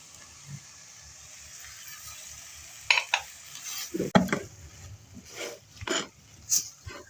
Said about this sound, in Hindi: साथ ही हम मिक्स कर देंगे कीमा।